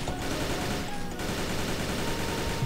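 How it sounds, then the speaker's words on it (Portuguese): Rapid automatic gunfire from an AR-15 rifle in the BloodStrike shooter game, a dense, continuous stream of loud shots filling the whole stretch without pause, mixed with game effects and no speech. "Agora eu vou tentar ir de metralhadora, sei lá, esqueci o nome, é AR-15"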